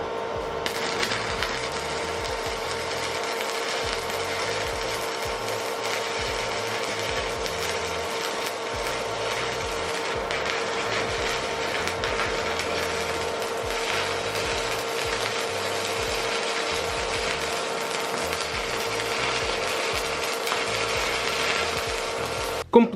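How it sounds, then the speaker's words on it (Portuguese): Inverter welding machine idling with only its cooling fan audible, a steady even whir with a faint tonal hum holding for over twenty seconds, alone, ending with a sharp click. "a inverter o único barulho que faz é mesmo a ventoinha"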